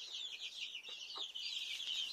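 Chickens cluck and chatter softly in a backyard garden after rain, a faint steady stream of high-pitched calls with no talk.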